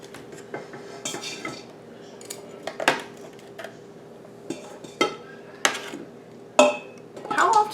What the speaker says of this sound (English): I'm just going to pick them up. I'm going to put them in my Instant Pot.